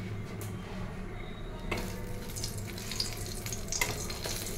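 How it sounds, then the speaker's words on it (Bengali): Three dry red chillies fry in oil in a kitchen, a soft continuous sizzle with occasional sharper crackles and pops near the middle and end, kept at low volume. "এদিকে আমি শুকনো লঙ্কাটা ভেজে ফেলে দিই, তিনটে শুকনো লঙ্কা"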